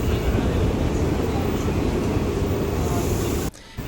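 Unreserved passenger train 57302 on the Medak to Kachiguda line, heard from inside a coach near Safilguda: a steady, loud broadband rumble runs throughout, dropping out briefly near the end before resuming.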